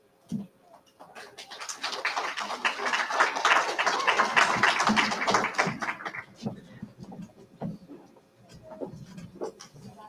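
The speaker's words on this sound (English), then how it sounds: "That was a weak hand clap, guys." Dinner audience at an annual award ceremony giving a round of hand clapping, a modest spread of claps rising for several seconds then fading into scattered single claps.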